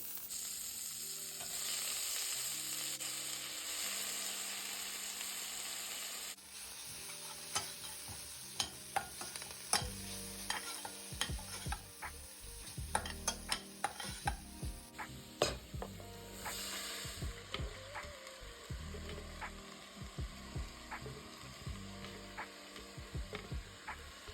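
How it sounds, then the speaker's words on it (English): Vegetables and chopped herbs stirred in butter in a pan: a soft sizzle with repeated close scraping and clacking strokes of the spoon, all under continuous background music. "I just gave it a good stir just to incorporate everything, give it a good mix"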